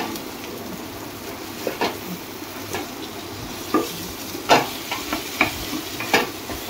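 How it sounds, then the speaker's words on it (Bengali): Egg frying with masala in a pan, stirred with a spatula: a steady low sizzle runs throughout, punctuated by irregular sharper scraping clicks from the stirring, close and moderately loud, with no talking. "মশলাটার সঙ্গে ডিমটা কষাতে থাকবো।"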